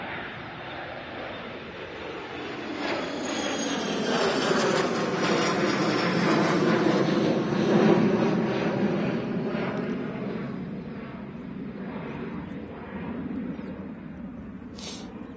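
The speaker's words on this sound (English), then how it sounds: "There's a biz jet." A business jet rolls or passes at Manchester Airport, a broad, steady engine roar that slowly grows and then eases over about fifteen seconds, heard from a distance with no talking.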